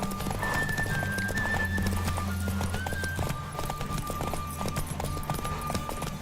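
A horse gallops in The Witcher 3 video game, rapid rhythmic hoofbeats running steadily under game music and ambience, with a brief whinny early on.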